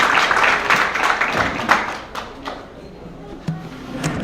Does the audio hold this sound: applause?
yes